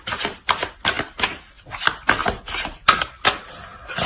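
Tarot cards being added to a deck and shuffled, heard as a close, steady run of about nine crisp slapping riffles at a fairly even pace, with no talk over them.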